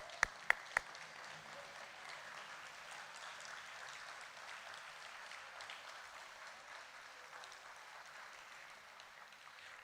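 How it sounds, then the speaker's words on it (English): At a high school honor graduates banquet, the audience applauds parents and guardians with a sustained, moderately distant round of clapping that opens with a few sharp close claps and fades gently at the end. "let's give them a nice round of applause"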